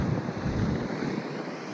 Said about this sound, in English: Of course, the wind has picked up quite a bit.